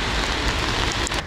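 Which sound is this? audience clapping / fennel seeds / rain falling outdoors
rain falling outdoors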